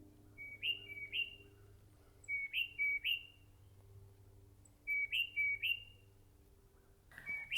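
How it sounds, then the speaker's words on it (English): A songbird sings outdoors in three separate bursts of paired, rising whistled phrases, clear but fairly distant over a faint low hum. "We've got a bird singing to us."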